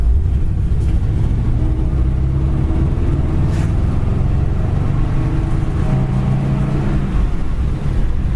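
A 1953 Mercury Custom drives along with a loud, steady engine drone and road rumble, and the engine note shifts briefly as gears change.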